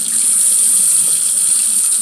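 Warm water runs steadily from a tap into a sink or tub before a cat's bath, a loud, continuous close-up gush with no voices.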